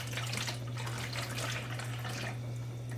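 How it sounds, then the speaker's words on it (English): Water pours steadily into the base of a steamer pot as a continuous splashing stream with a low hum underneath. It runs alone without speech and eases slightly toward the end. "I'm going to pour some water in there"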